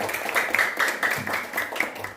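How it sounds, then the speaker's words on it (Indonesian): A class of students claps for a classmate, a short spell of light, fairly quiet applause with a soft irregular patter and no talking. "Tepuk tangan untuk Furkon"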